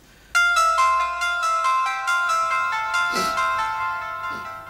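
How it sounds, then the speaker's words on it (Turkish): A melodic phone ringtone plays loud and close in a Turkish TV drama scene, a bright chiming tune of repeating notes, with faint voices briefly underneath. "Telefon çalıyor, bakmayacak mısın?"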